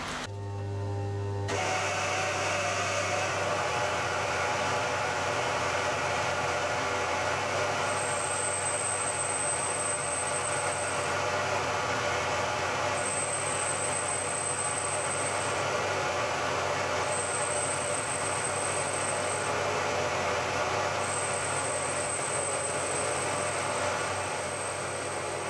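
A lathe or mill machines a part for a Titan .60 glow plug model engine to full depth, giving a steady, loud mechanical whir with a faint intermittent high whine, heard alone throughout.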